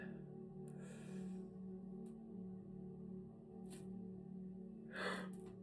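A person yawns close by, with quiet, breathy gasping inhalations and a louder drawn breath near the end over faint background hum.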